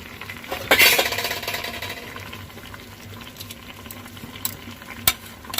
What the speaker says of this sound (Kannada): ನೋಡಿ, ಇವಾಗ ಎಲ್ಲ ಬೇಯ್ತಾ ಇದೆ.